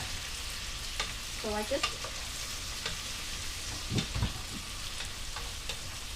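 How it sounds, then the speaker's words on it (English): Chopped celery and onion frying together in a pan, a continuous soft sizzle with a few scraping stirs and clinks of the utensil, while a voice briefly speaks at the start. "put in the celery and the onion, cooking it all together there."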